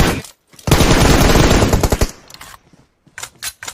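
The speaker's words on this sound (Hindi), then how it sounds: "एक को दो गोली मारा" A close, loud burst of rapid automatic gunfire in the BGMI mobile battle royale game, followed by a few scattered single shots and brief pauses.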